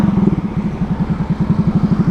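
Motor scooter engine fitted with an SC Project racing full-system exhaust, idling with a quick, even train of throaty pulses, loud and close, with no voices.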